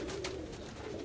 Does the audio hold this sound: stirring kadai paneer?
no